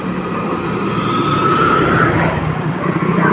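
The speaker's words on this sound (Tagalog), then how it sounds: "Truck ito, truck." A truck passes along a roadside where people wait for a bus, with a steady, loud motor rumble swelling toward the middle and easing slightly after, and no talking.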